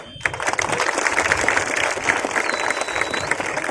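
Sustained applause from a crowd at a political speech, dense and steady clapping that starts abruptly and continues loudly throughout.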